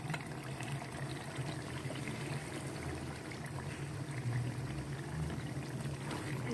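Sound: pumpkin added into cooking beef masala

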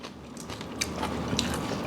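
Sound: crunchy bite of spicy papaya salad

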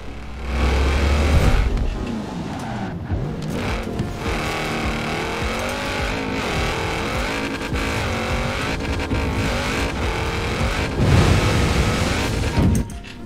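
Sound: car driving up in video game Forza Horizon 4

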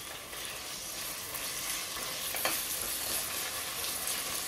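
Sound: chicken mince frying in a pan

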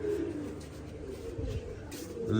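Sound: pigeons cooing

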